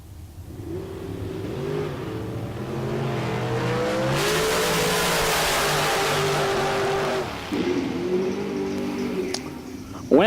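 Drag racing car at a Texas Motorplex bracket race, launching on a throttle stop with a loud, steady engine drone that rises, dips briefly, then picks back up, heard from trackside.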